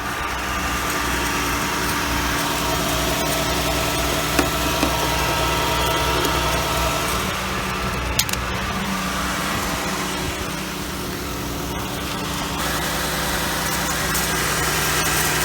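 An old Oldsmobile Cutlass engine idles steadily and loudly nearby, a continuous low rumble with a few faint taps and no voices.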